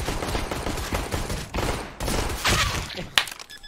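Rapid bursts of gunfire from a shooting video game, dense and loud throughout with a sharp crack near the end.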